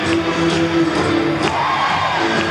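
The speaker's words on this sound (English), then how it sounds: "As the crowd really gets into it here from Atlantic City." Minor-league baseball crowd at Atlantic City, 1999, a dense, loud roar of cheering and whooping that holds steady during a pitching change, with a faint announcer voice beneath.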